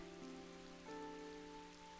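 Rain falls in the video game Tales of Graces f as a quiet, steady patter beneath sustained soft background music, with no voices.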